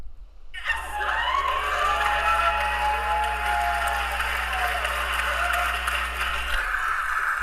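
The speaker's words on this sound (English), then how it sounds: "I just have to imagine these people clapping are adults" An audience bursts into dense, steady clapping that holds loud and even for several seconds, with faint cheers mixed in, then cuts off.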